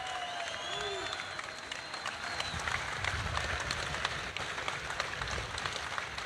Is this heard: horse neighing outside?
no